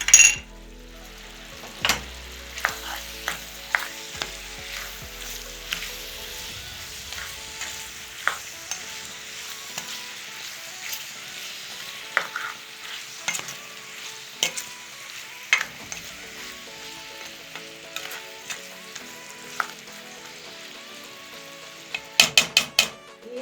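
Beetroot sautéed with a spoonful of tomato paste in a pan, a long, steady frying sizzle broken by frequent sharp clinks and scrapes of a spoon stirring, close by with no talk.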